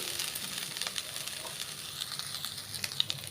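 Drumstick (moringa) leaves sautéed in a pan until they curl, giving a soft, steady sizzle and hiss with faint scattered crackles, close but quiet, and no voices.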